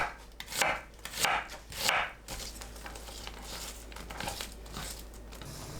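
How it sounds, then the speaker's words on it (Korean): A knife slices onion into thin strips on a cutting board, several close, crisp chopping bursts in quick succession followed by lighter, scattered cuts and board taps, with no talking. "양파를 채 썰어주세요."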